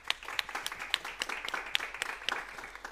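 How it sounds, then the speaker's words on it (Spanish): Audience applause after a round-table talk on youth, fake news and institutional trust, a steady patter of hand claps with a few sharper individual claps standing out, moderately loud and with no voices over it. "un fuerte aplauso para ellos"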